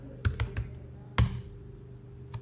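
Short bursts of typing on a computer keyboard: a quick cluster of three key clicks, a pause, a louder keystroke, then one last faint tap, close and clear with no talking.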